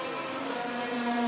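Vintage race cars at the Rolex Monterey Motorsport Reunion at WeatherTech Raceway Laguna Seca make a steady, close engine drone whose pitch edges upward as they pass, with no voices over it.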